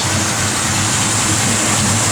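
A 1967 Chevrolet Chevelle SS engine with a mildly upgraded cam running on pump gas, a loud, steady close-up idle with a low rumble and constant exhaust noise.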